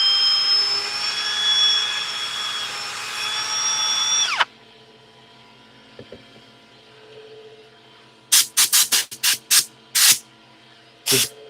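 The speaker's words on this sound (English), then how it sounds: "Just blowing it out so it get all the dust off." Compressed air blasts dust off freshly sanded wood: a loud sander whine stops abruptly, then after quiet clicks come a series of short, sharp air-gun bursts in quick succession, close by.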